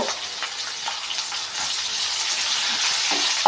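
Onion and green chillies frying in a pan hiss and sizzle in a dense, steady crackle, close and fairly loud, with no voice over it.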